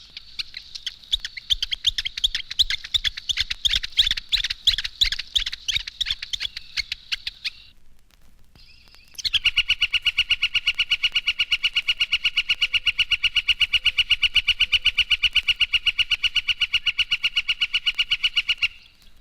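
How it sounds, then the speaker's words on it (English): A flicker's prolonged spring call: a long series of rapid, evenly repeated loud notes, first a slightly irregular run, then after a short pause a steadier, faster sustained series, close and clear with no talk. "the prolonged spring call of the flicker"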